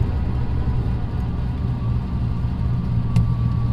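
A GTO's engine is launched with the clutch grabbing, giving a steady, loud low rumble throughout with a slight swell near the end.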